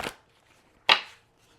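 A deck of cards gets shuffled during a reading, two short, crisp riffling bursts separated by a brief pause, close and fairly quiet.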